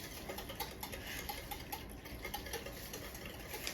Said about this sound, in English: So you want to whisk this as you're adding